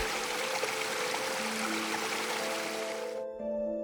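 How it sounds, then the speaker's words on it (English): A raging Daintree river in flood, its churning water a steady, dense roar close by that cuts off abruptly near the end. "the river now rages around them, a formidable churning barrier"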